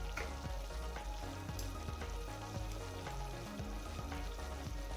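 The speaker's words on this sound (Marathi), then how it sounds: "लाल मिरची पावडर, ते आपल्याला व्यवस्थित असं तेलामध्ये परतून घ्यायचं आहे" Red chili powder sautéing in oil for a Sankranti Bhogi bhaji, a steady dense sizzle with occasional stirring clicks, close and continuous with no talk.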